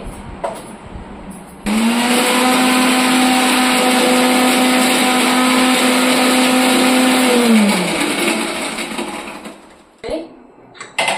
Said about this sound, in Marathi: आता मिक्सरमध्ये फिरवून घेते